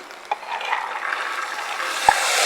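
Beans tipped into hot ghee with salt, ginger, cumin and fenugreek, giving a steady soft sizzle with a couple of faint stirring clicks, close and alone.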